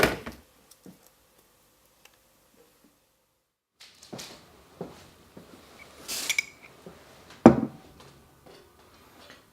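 Sparse clinks and taps of cups and dishes as tea is served in a quiet room, a few light knocks early, then a busier patch of clatter and a sharp clunk.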